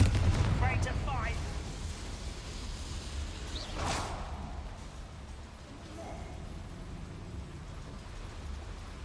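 A Confringo explosive spell from Hogwarts Legacy bursts once near the middle with a sharp whooshing blast, set amid a dense, rumbling game soundscape.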